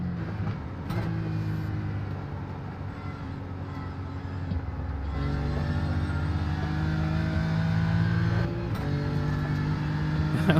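A race car engine at Tsukuba circuit drones and then revs higher, its pitch rising in stages, loud and close, with a brief break before climbing again.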